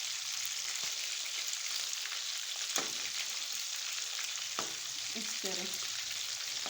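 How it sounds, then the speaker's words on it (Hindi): Fish fries on high heat in a pan, a steady loud sizzle with a few stirring scrapes and clinks, while a voice briefly speaks over it. "तेज़ आंच पे इसको फ्राई करना है"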